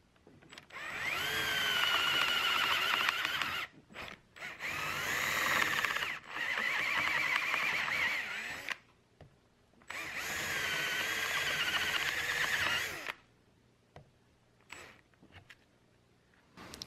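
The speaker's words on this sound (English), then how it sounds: "I'll come back with a larger drill bit and drill out just the very outer portion of this hole" A power drill fitted with a larger bit bores out a hole in aluminum RV slide-topper trim. Three loud, whining bursts of several seconds each are separated by short pauses, then a few brief quieter buzzes follow near the end.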